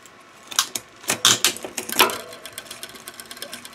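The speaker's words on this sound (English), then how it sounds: "Now we'll go ahead and shift to the smallest cog in the back" A bicycle grip shifter being twisted to the smallest rear cog makes a rapid run of close, sharp ratcheting clicks, bunched densely at first and then thinning out.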